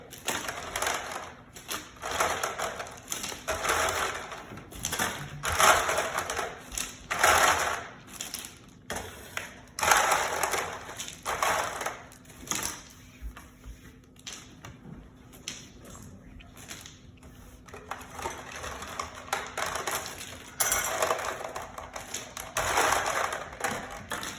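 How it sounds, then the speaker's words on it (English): Ice cubes are poured into a plastic bag for ice cream in a bag, giving repeated bursts of rattling, crunching clatter in uneven waves with short pauses, close and fairly loud, with no speech. "we're gonna take our ice and we're gonna fill up our bag about half full."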